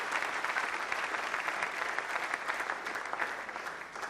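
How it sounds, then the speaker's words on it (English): A large audience at a conference event breaks into sustained applause, dense and steady clapping filling the room at close range without a break. "All right, please a round of applause for"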